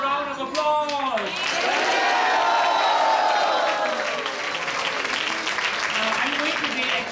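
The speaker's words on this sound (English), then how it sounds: "Can we have a loud round of applause?" An audience applauds after a spiritual drama staged for Sri Krishna Janmashtami. The clapping is a continuous crowd wash, with sweeping tonal sounds and a voice rising over it.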